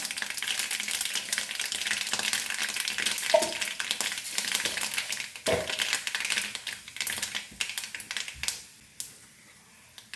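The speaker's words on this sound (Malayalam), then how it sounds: "വെളിച്ചെണ്ണ നന്നായിട്ട് ചൂടായാൽ കടുകിടാം. കടുകിട്ടു." Mustard seeds splutter in hot coconut oil, a steady close crackle and pop of frying with a few sharper bursts, fading out toward the end with no talk.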